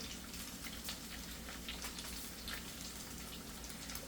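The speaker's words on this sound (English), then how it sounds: "Some people say sizzling bacon is very relaxing." Bacon strips crackling and sizzling in a hot pan on a stovetop burner, a steady dense hiss of frying fat with fine popping, continuous and close, with no talking.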